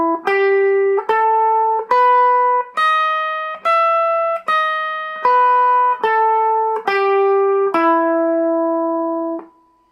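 A clean, sustained tone plays the minor major 7 pentatonic scale one note at a time, about ten evenly spaced notes rising and then falling back down, each held roughly a second, with no talking.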